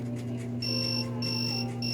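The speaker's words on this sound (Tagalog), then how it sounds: "So nag-buzzer. Ito yung buzzer." Buzzer of a vital signs tracker on a smart pillow sounding an alarm for an abnormal reading, a steady high electronic tone that breaks into repeated on-off beeps over a constant low hum.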